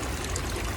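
Pond water filling an OASE BioTec ScreenMatic filter box, a steady close trickling and pouring wash that stays even throughout.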